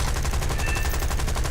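Sustained machine gun fire from a British vehicle's turret in the War Thunder arcade battle, a continuous rapid rattle of shots at steady rhythm, loud and close with no pauses.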